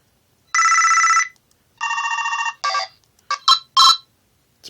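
A loud electronic ringtone from a Sonim XP1 rugged phone plays alone: two long warbling tones, then a string of shorter bright chirps, close and piercing.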